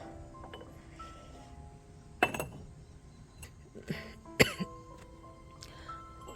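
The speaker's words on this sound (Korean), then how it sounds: "건강이 다 회복되지 않아서 아직 좀 기침을 합니다" Someone recovering from illness coughs and clears the throat a few times in a quiet room, short sharp bursts spread apart, with light clinks of ceramic pots nearby.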